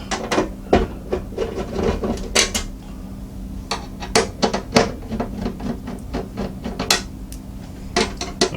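Tight thumb screws being worked loose from the back panel of a Thermaltake Core P1 mini-ITX computer case, a close series of irregular metallic clicks, taps and scrapes with no talking.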